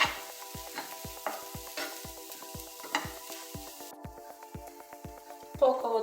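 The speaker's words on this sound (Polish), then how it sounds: "Smażymy do momentu zeszklenia się cebuli" Onions sizzle in a hot pan, frying until translucent, while a utensil scrapes and taps rhythmically against the metal, fairly close and steady.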